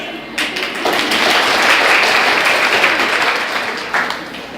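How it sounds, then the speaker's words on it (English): A crowd breaks into loud, sustained applause, a dense wash of clapping that swells and holds before tapering slightly. "You can clap once more because there is no tax."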